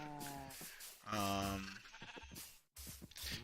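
Several Minecraft sheep bleat in succession in the video game, close and clear, one long wavering cry among shorter calls, with a sharp cut before the last bleats.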